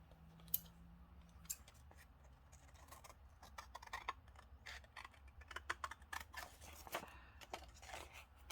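Paper edges are trimmed for an envelope-style pocket, giving quiet, close snips and crisp rustles in an irregular run of short bursts over a low background hum.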